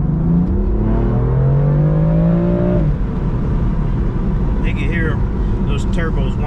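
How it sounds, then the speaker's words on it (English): A used BMW M4 with turbos accelerates hard, its engine note climbing in a rising whine before easing off, loud and close, with some faint chatter late in the clip. "Those turbos wind up pretty good."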